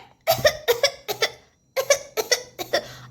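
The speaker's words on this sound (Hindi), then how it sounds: "ये तो सच में खांस रही है और छींक भी रही है" A cartoon doll coughs and sneezes in a fast series of about six loud, close bursts, grouped in two clusters with a short silent gap between them, with no talking.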